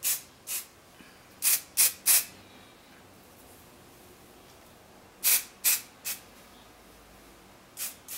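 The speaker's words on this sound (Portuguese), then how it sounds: "Para finalizar, eu vou usar um spray fixador de brilho também." A Victoria's Secret shine fixing hairspray is sprayed onto curled hair in about ten short, crisp bursts, some in quick pairs and trios, separated by quiet gaps.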